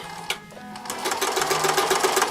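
Sewing machine running a zigzag stitch while insetting a sleeve on a nightgown, a quick rhythmic mechanical chatter of rapid needle strokes, close and steady, no talk.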